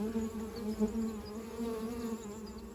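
Honeybees hum at a beehive, a steady close drone with a faint, even pitch and no talk over it.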